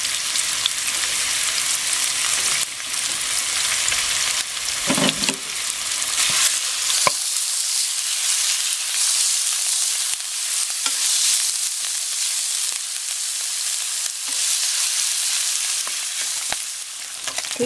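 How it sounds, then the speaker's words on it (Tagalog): Ground pork frying in sesame oil in a pan, a steady loud sizzle with occasional stirring scrapes throughout, no voices. "So, lutuin muna natin itong ground pork."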